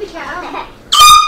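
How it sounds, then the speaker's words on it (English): An air horn blasts as a prank, a single loud, sustained blare after a stretch of quieter voices and background noise. "I'm going to prank everyone with the air horn"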